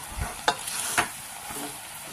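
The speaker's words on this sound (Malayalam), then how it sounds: "വെളിച്ചെണ്ണ ഒഴിച്ചിട്ട് നമുക്കിതിനെ ഒന്ന് ഇളക്കാം" Jackfruit avial being stirred in a pan right after coconut oil goes in, with a few distinct scraping strokes and a soft sizzle underneath, close and moderately loud with no talking.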